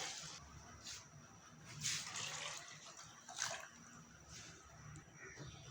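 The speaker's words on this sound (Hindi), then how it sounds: "वो भी मैं इसके अंदर पानी ऐड कर रही हूँ" Water poured into a pot of kadhi mixture made from yogurt, a soft continuous splashing trickle close by, fairly quiet, swelling in brief surges.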